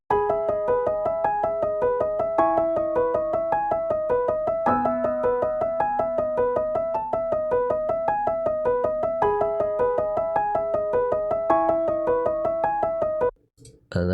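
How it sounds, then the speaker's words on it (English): Piano melody from a melodic dubstep remix: steady, rapid repeated chords and arpeggiated notes over sustained bass tones, continuous and fairly loud, ending abruptly near the close with a brief different sound. "the third melody is a piano melody"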